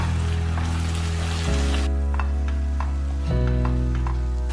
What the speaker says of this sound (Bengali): এবারে কিন্তু আবারও আমি কিছুক্ষণের জন্য একটু ফ্রাই করব